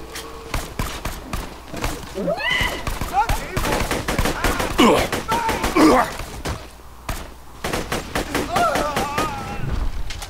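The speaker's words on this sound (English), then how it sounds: "Somebody's shooting at me." Rapid gunfire from the video game Borderlands 2 crackles in loud bursts and single shots, mixed with explosions, while a voice talks over the shooting.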